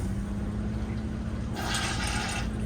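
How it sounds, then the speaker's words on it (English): Water rushing into a two-valve RV toilet bowl as its foot pedal is pressed halfway, a soft hiss that starts partway through and runs for about a second over low steady hum. "you can put your foot halfway down on it. That's just going to fill with water"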